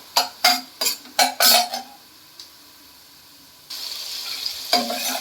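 Peas being stir-fried in a hot pan, a quick series of five scraping, sizzling stirs with a spoon, then a pause and a renewed soft frying hiss with one more stroke, close and fairly loud, no speech.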